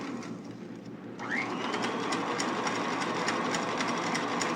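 A stand mixer runs steadily at low speed, its beater whirring through Italian meringue as hot sugar syrup is added to the whipped egg whites; the motor drone is continuous and close, with no talk.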